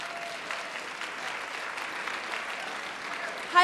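A large crowd at a San Francisco civic event with Mayor Newsom applauds steadily, a dense, even wash of clapping that carries on throughout without a break.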